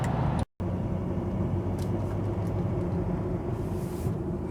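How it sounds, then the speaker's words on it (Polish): A steady low rumble of tyres rolling on the road from inside a moving Mercedes-Benz GL 420 CDI, constant and droning, with a brief dropout near the start. "Może po prostu opony na tym egzemplarzu są tak głośne."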